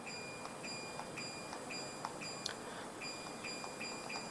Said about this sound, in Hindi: बजर का साउंड आ रहा है